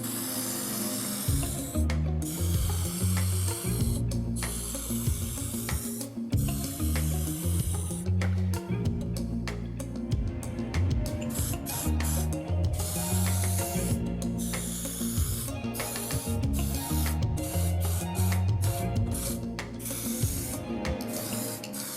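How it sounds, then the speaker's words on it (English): Weld-through primer is sprayed onto car chassis parts in repeated hissing bursts from an aerosol can, separated by brief pauses. "Now I can get these painted in weld-free primer"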